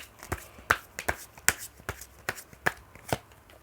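Tarot cards are drawn and shuffled in a series of crisp, separate card snaps and flicks, close and fairly quiet, with no talking.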